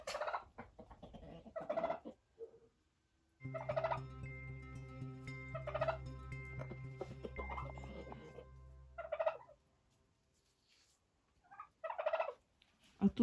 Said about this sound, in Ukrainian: два півня індика, да? Три.